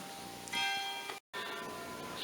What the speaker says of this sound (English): we can hear the church bells ringing as well, which is very charming